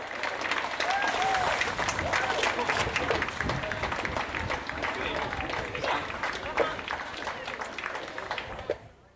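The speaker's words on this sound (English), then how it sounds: "Let's give all our players a big round of applause." A crowd at a goal league finals game between Ivanhoe and Great Oaks applauds the players, a dense roar of clapping with cheering and voices mixed in, loud for most of the stretch before tapering off.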